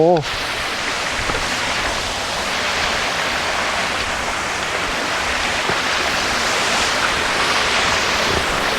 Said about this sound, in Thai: ถึงแล้วน้ำตก